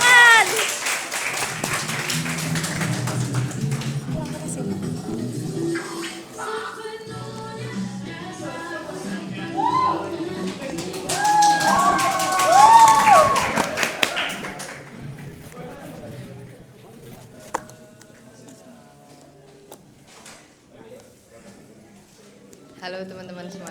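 Audience applause and cheering at a live student candidate presentation event, loud clapping throughout the first half that fades into scattered claps and murmuring chatter, with a voice speaking over it.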